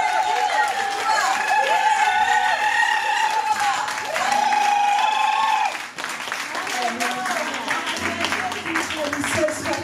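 A church congregation applauding and cheering during worship, a continuous wash of clapping and crowd noise with sung or shouted voices rising above it, fairly loud and steady across the stretch.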